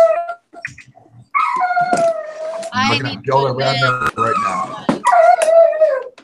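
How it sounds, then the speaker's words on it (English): A dog howls in long wavering tones and lets out whimpers indoors, rising and falling between bursts of people talking nearby. "Don't cry, doggy."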